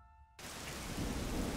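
Heavy rain with thunder in a Makoto Shinkai film, a dense downpour roaring in suddenly after a quiet tonal moment and holding loud and steady to the end.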